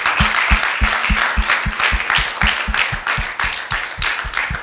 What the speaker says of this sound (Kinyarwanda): bose abakoze muri Imana tubakomera amashyi menshi